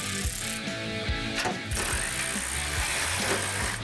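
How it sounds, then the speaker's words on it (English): A hand ratchet clicks steadily and close while tightening the leaf spring shackles on a 1970 Dodge Challenger, with repeated quick pawl clicks and no talk. "go ahead and tighten down your shackles and your leaf spring purchase"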